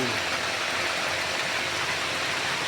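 Heavy rain pours steadily in Dolores, Quezon, a loud, dense, continuous hiss that fills the whole moment with no pauses and no voices over it.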